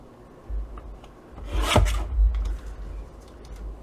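Paper strips for a Christmas candle explosion box being cut on a trimmer, a quiet close rasping slide that rises to one sharp swishing stroke, followed by faint rubbing and handling noises.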